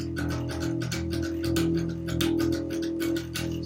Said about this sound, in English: like the noise of the plectrum itself hitting the string kind of creates a bit of a different tone